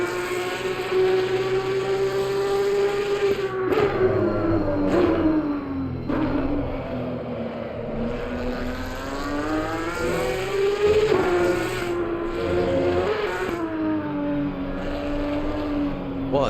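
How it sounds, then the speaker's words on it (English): A Porsche race car engine in the Assetto Corsa Competizione game drones loudly and steadily, pitch rising and falling through gear changes and revs during a Supercup race at Barcelona, with faint talk underneath. "Right, let's listen to this engine, boys."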